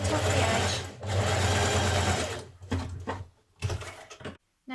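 Home sewing machine stitching dress fabric for a Burda 6060 dress: loud, close, rapid mechanical chatter in two sustained runs, then short stop-start bursts and pauses as the seam ends.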